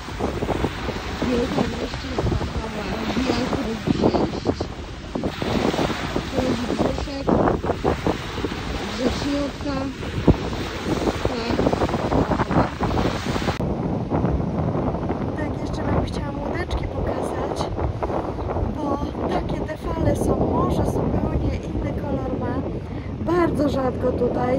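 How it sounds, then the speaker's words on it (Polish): Wind buffets the microphone and waves wash continuously at a bay on the Baltic coast near Gdańsk, loud, steady and rough throughout with no gaps. "W zatoce jest takie fale i no po prostu jak na pełnym morzu"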